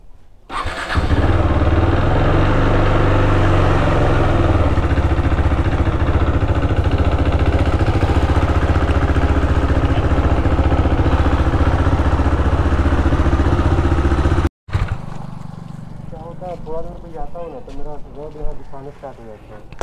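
A KTM Duke 390 motorcycle engine starts with a brief crank and settles into a loud, close, steady single-cylinder idle for about fourteen seconds, then cuts out abruptly. Quieter background noise follows.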